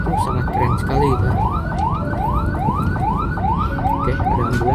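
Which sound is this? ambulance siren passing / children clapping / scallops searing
ambulance siren passing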